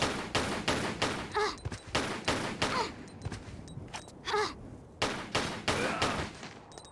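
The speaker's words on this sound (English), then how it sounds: "And she guns him down." Gunfire in Tomb Raider: The Last Revelation comes as repeated rapid bursts of sharp shots, several clusters in a row separated by brief gaps, with a faint pained groan between them.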